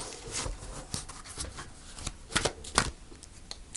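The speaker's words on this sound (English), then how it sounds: "So I'm going to pull a final card." Tarot cards are shuffled by hand, a soft papery riffling and rubbing close by, ending with a few sharper flicks as a card is drawn from the deck.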